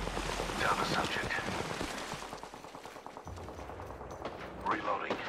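Rapid gunfire crackles through a shooter video game firefight, dense bursts fading into sporadic shots, with game sounds and a voice at times over it.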